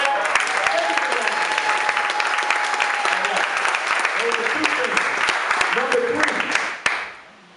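Sustained audience applause fills the room for about seven seconds, dense and loud, with voices calling out over it before it cuts off abruptly.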